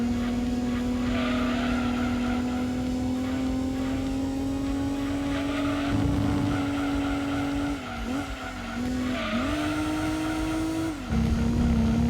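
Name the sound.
car engine in video game Gran Turismo 2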